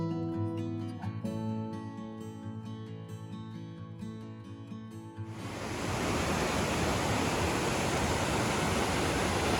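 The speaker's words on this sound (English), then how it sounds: "Bottom end of Whitewater Falls." Loud, steady roar of a waterfall at the bottom end of Whitewater Falls on the Foothills Trail, broad rushing water filling the second half after a tonal, musical-sounding opening, close and continuous with no talk.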